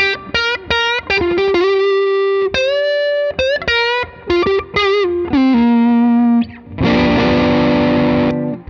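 Collings I30 electric guitar on the neck pickup through distortion, a run of sustained single notes and bends, loud and close, ending in a ringing strummed chord.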